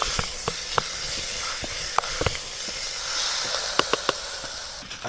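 A small camping stove hisses steadily throughout, a continuous gassy rush, with scattered sharp clicks and taps from cooking gear on top.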